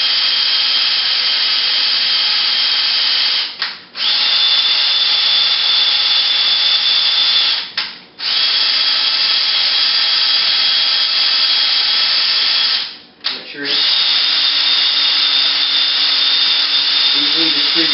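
Power drill with a stirring attachment mixing wine from a kit inside a carboy, a loud steady whirring drone running almost the whole time, cut by three brief pauses.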